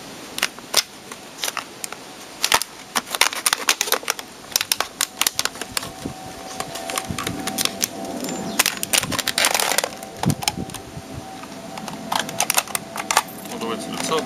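Knife or scalpel cutting through a plastic bottle, close, irregular crackles, snaps and crinkling bursts that continue throughout and grow busier toward the end.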